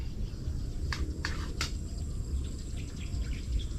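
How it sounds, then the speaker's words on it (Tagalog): Birds over a sponge gourd patch give three short, quick chirps against a steady outdoor background of insect buzz and low rustle. "Lumilipad yung mga ibon sa taas ng patola."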